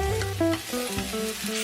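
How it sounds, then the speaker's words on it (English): Pork ribs drop into a pan of melted, lightly yellowed crystal sugar and sizzle briefly up close, with a few clinks and a steady hiss underneath. "put the ribs into the pan."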